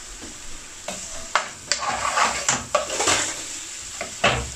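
Tomato is stirred into mince frying in a pan, with soft sizzling under repeated sharp scrapes and clanks of a utensil against the metal, close and irregular, no talking.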